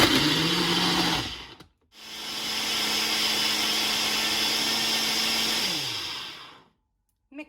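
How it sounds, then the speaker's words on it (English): A blender loudly mixing lunch ingredients, running in two bursts with a brief pause between, a steady motor whine that winds down at the end. "Mixing is loud."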